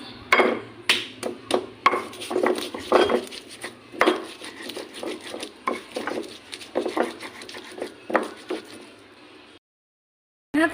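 Repeated grinding and knocking of a pestle against a stone mortar, crushing spices with salt, close and uneven, continuing for several seconds before a brief silence.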